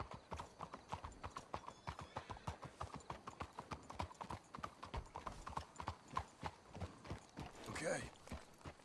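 Steady clip-clop of horse hooves trotting at a brisk rhythm in the video game Red Dead Redemption 2, with occasional voices and a brief whinny near the end.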